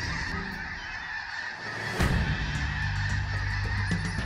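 A large flock of snow geese honks continuously, many overlapping calls from near and far that swell louder as more birds join in, with no talk.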